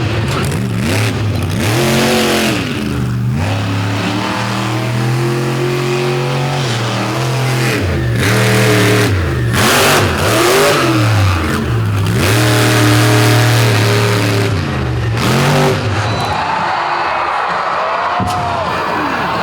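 A monster truck engine revs hard and roars up and down in long surges, loud and close, at a night show in Benson, North Carolina, with thuds from big air and a brief drop-off as the engine dies.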